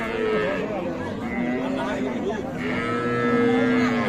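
A Sahiwal cow moos in long, drawn-out calls, close by, over a busy background of crowd chatter and livestock noise at a cattle market.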